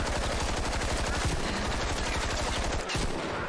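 Rapid, close, loud gunfire from mega shotguns in a multiplayer video game, blasts following one another in a dense, nearly continuous run with no clear gaps.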